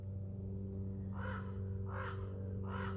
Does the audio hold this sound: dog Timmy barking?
no